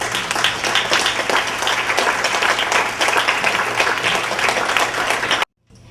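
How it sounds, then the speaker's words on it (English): Applause for pastors and church representatives at an African American recognition dinner in Hamtramck, a full, sustained round of clapping from a banquet crowd that cuts off abruptly near the end. "they deserve our applause for the services they've provided for our community"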